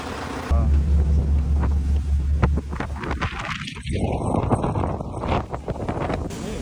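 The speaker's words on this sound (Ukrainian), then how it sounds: "Тут у нас моторний відсік. Зараз буде дуже гучно." Loud roar of a yacht's engine room with 1250-horsepower motors running, carrying a heavy, continuous rumbling drone and windy rushing noise close to the microphone.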